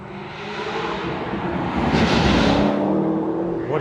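Hypercar at a car show revving its engine, a loud swelling roar that builds to a peak mid-way and eases off slightly, heard alone without talking.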